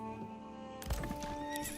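A horse in a video game gives a loud, close whinny that rises and falls for over a second, followed by a few clip-clop hoofbeats.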